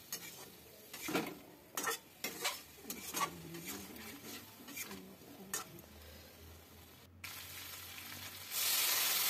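Cauliflower and potato curry cooked down with milk is stirred in a pan, a quiet low sizzle under several distinct scraping strokes of a spoon, then a brighter, louder hiss rising at the end.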